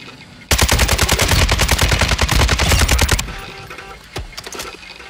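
Rapid automatic gunfire from a military shooter video game, a loud sustained burst for about three seconds, then scattered single shots and quieter clatter.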